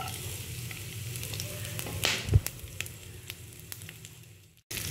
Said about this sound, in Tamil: தாளிக்கிறேன். பூண்டு கொஞ்சம் ஆட் பண்ணுவோம்.